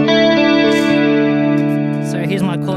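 Through a chorus effect pedal, an electric guitar holds a sustained chord that shimmers with slight warble and slowly fades, with no talk.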